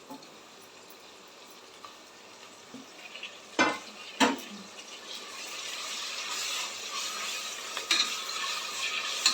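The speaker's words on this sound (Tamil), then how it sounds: "தக்காளி வந்து நல்லா வதங்கட்டும்." Tomatoes with asafoetida sautéed in a pan for broken wheat kichadi, with a soft steady sizzle, a couple of sharp spoon scrapes and clanks against the pan, and a growing hiss toward the end, close and without speech.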